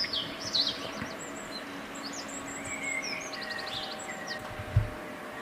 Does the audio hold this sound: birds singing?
yes